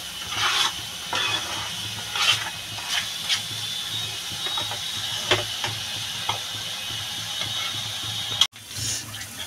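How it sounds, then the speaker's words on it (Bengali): Spice paste stirred and fried in oil for a Bengali fig curry, a steady sizzle with repeated scraping strokes of a spoon against the pan, close and fairly loud, ending in a brief sharp knock. "মশলাটা ভালো করে কষাবো, যতক্ষণ পর্যন্ত মশলাটা তেল না ছাড়বে ততক্ষণ পর্যন্ত আমি মশলাটা কষাবো।"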